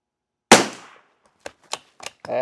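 A rifle firing CCI SV ammunition gives one sharp, loud shot with a short decaying tail, then several quieter clicks and knocks of the action, then a brief rough rustle at the end.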